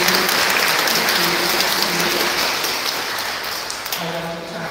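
Audience applause at a girls' Catholic school graduation ceremony, a dense, steady wash of clapping that softens slightly toward the end, with faint voices murmuring underneath.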